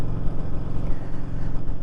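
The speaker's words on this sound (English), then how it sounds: "Back out on the Shadow 750 Phantom 24. About to take a little ride on Saturday morning." A Honda Shadow 750 Phantom motorcycle engine rumbles steadily at close range, a low throbbing idle or cruise with no voices.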